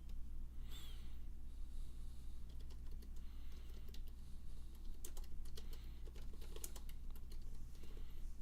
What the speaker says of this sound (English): Oh, the keyboard's up here.